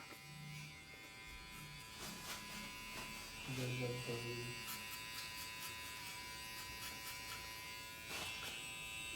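An electric shaver buzzes steadily while shaving a head, a faint continuous drone with brief changes in pitch as it moves, under people talking over a livestream.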